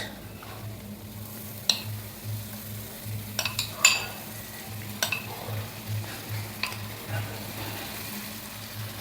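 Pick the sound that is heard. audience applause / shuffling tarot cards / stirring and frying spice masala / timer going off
stirring and frying spice masala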